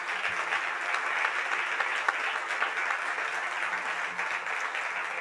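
Steady applause from an audience greeting the Chief Minister of Karnataka at the ET Startup Awards 2022 in Bengaluru, a dense, even wash of clapping held at one level throughout with no one speaking.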